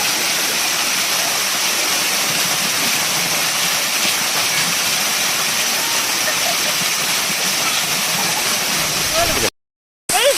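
Masila waterfall in the Kolli Hills rushing as a loud, constant broadband roar, close and unbroken apart from a brief cut near the end.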